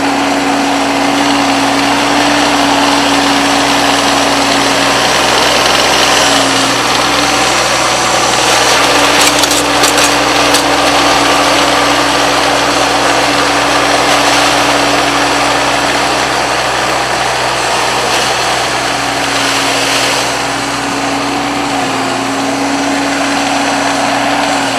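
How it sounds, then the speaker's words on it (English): A tractor engine runs steadily at a constant, idle-like pitch on a farm during a sweet potato harvest, a loud continuous drone filling the whole stretch with no talk over it. "I'll just spread them out with a tractor."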